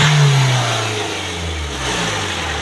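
Diesel engine revving with a smooth, fine-running idle, the close, steady low rumble swelling at the start, then settling into a sustained hum, with no talking.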